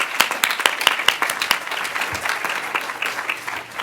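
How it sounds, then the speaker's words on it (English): An audience applauds storytellers at a live storytelling event, a fairly close burst of many hands clapping in a dense, crackling patter that thins slightly toward the end. "Let's give them another round of applause."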